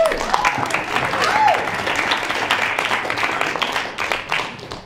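A debate-club audience applauds a newly introduced helper in a dense, steady wash of clapping that lasts the whole stretch, with a few brief voices rising over it.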